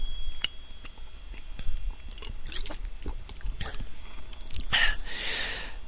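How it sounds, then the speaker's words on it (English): A person takes a big gulp of water, with close swallowing, mouth and lip noises and a wet slurp near the end, heard alone at moderate level. "Big drink of water there."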